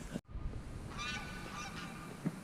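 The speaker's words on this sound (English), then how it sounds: "The geese have seen me. They're now honking." Farm geese honk from a short distance away on a pasture with sheep and chickens, a cluster of nasal calls rising over steady outdoor noise after a brief handling thump.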